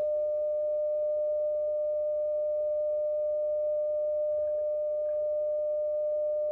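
A CFT1 five-band CW field transceiver puts out its IF calibration tone, a pure, steady beep held at constant pitch and loudness for the whole clip with nothing else heard.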